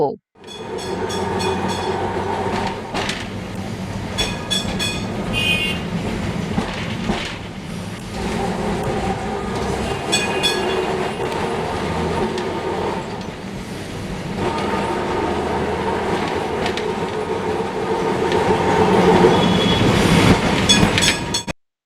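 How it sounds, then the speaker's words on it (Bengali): A tram rumbles steadily along the rails, with metallic clatter, squeals and bell-like tones, growing louder toward the end. No one speaks. "ট্রাম"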